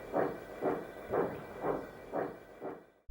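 A steam locomotive puffs in with five evenly spaced, heavy chuffs of steam, each a soft hissing burst, slowing slightly before the sound cuts off.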